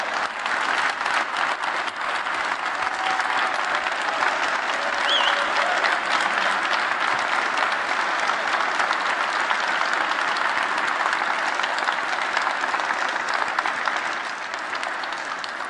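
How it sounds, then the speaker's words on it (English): Sustained, steady applause from a conference keynote audience welcoming the software core team behind the black hole image onto the stage, dense and even for about fifteen seconds with no talk over it. "Let's give them a big round of applause."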